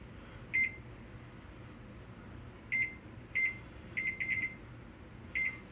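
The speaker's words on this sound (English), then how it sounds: "So let's see, reset the timer." An oven timer gives short, high electronic beeps while it is reset, one alone, then a few spaced apart, a quick double, and a last one, over a quiet kitchen hum.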